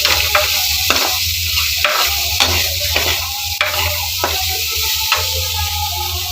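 Onions fry in a non-stick pan for a fish curry, giving a steady close sizzle broken by repeated scrapes and stirring knocks.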